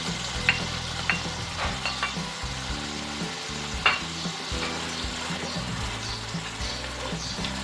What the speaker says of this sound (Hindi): आँच को तेज करके कीमा भून लेंगे।